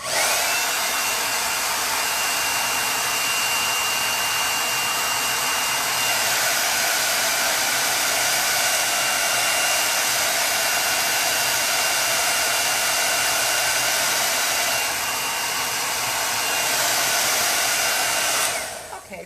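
A hair dryer blows steadily at close range to dry a chalk paste transfer on a vintage box, making a loud, unbroken whooshing roar that holds for nearly twenty seconds before cutting off.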